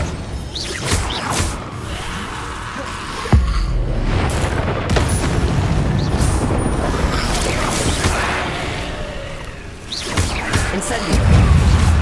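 Incendio fire spell in Hogwarts Legacy: loud fiery blasts and booming whooshes from spell combat, repeated bursts with crashing impacts, with a voice speaking among them.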